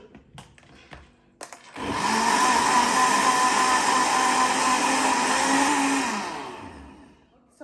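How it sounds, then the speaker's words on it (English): A blender whirs loudly for about four seconds, blending a green smoothie of spinach and water, after a few clicks and knocks. The motor winds down to silence at the end. "So when you're blending your smoothie,"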